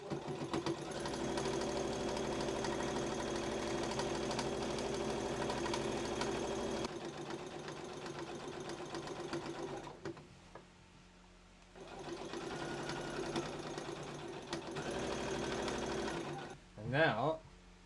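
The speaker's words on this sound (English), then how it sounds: "I'm going to sew around here with a 1 centimeter or 1/2 inch" A sewing machine stitches a seam on a large Japanese knot bag, running in a steady loud whir that stops twice and then resumes, with someone talking through some of it.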